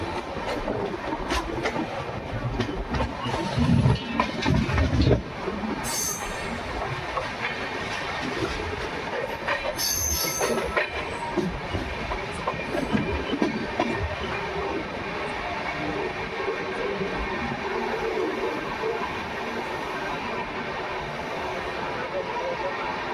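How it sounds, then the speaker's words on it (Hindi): Rajasthan Sampark Kranti express passing on an Indian railway line near Makrana, a steady loud rumble of wagons with rhythmic wheel clatter running throughout, close by and continuous, with faint voices in the background. "तो अभी जो ट्रेन निकली राजस्थान संपर्क क्रांति"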